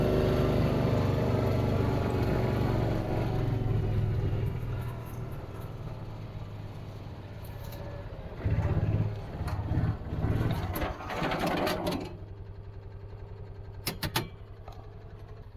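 A vehicle's engine rumbles low and steady as it drives up over a repaired trench, fading somewhat before a few bumps and clatters, then quieter background.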